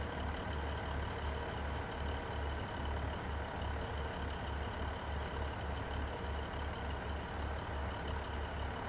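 A diesel train engine idles in Train Sim World 2, set on a 1990s West Cornwall line, producing a steady, low, throbbing rumble with a regular pulsing beat and no other sounds over it.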